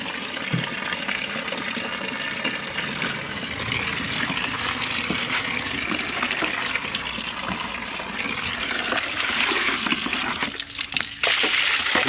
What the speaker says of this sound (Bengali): এই যে এখান থেকে পানি ঢালো